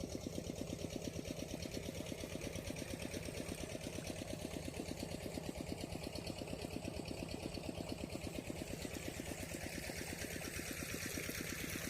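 A small water pump engine drives water into a young rice paddy, chugging in a fast, steady rhythm with a dense mechanical rattle, close and constant throughout, with no voices.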